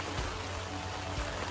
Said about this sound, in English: Starting to rain hard again and the wind's starting to blow hard.